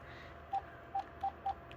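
A mobile phone ringtone, tone number 7: four short, evenly spaced electronic beeps, faint against a quiet background.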